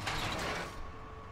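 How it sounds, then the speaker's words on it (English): A door in the Texas Chainsaw Massacre video game is forced open with a loud mechanical creak and grinding scrape that fades into a lower rumble, with no talk over it. "I slammed the door open"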